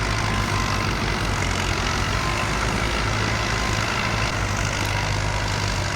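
LTZ-60 and YuMZ-8244 tractors towing a 60-ton semi truck at night, heavy diesel engines roaring steadily and loudly throughout with a constant low drone, no talking.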